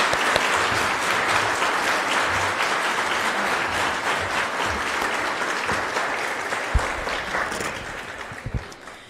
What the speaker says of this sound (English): we would like to thank and give the amazing youth group leaders a round of applause